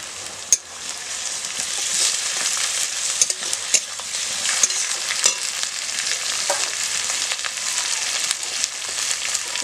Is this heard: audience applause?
no